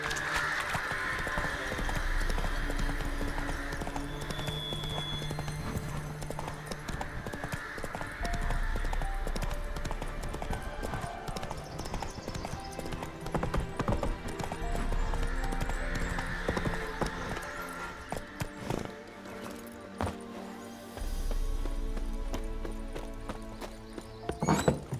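The horse Roach galloping in The Witcher 3, steady rhythmic hoofbeats pounding continuously, up close and loud, with a neigh along the way and game ambience underneath.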